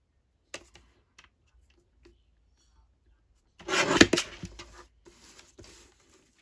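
Paper being trimmed for a handmade stamped-paper bag craft: a few soft ticks, then a short, close burst of slicing and rustling before it fades back to near silence.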